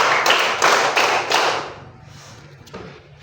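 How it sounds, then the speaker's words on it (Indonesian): A group of people in a classroom claps together in a rhythm exercise, three or four loud unison bursts in quick succession that then fade to scattered faint taps. "Mulai tepuk."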